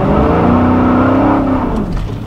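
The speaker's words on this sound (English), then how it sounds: "I'm just going to basically stab it in second gear." A Dodge Challenger T/A 392 accelerates hard in second gear on a wet road, its V8 a loud, close, sustained roar that holds steady and then eases off.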